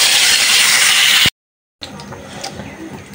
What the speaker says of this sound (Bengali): তো মাছগুলো হালকা একটু ভাজছি